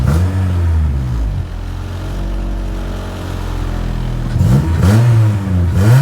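A Honda Prelude engine, just after a cold start, revving strongly and continuously from close by, with rising and falling sweeps in pitch near the end.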